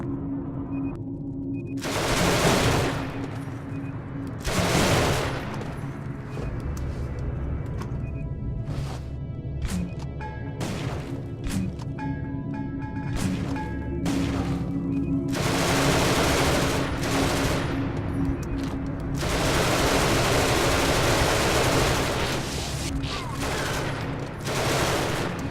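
Automated turret firing in the video game Genesis Alpha One, loud repeated bursts of rapid gunfire in several long volleys over a steady low rumble, with short pauses between bursts.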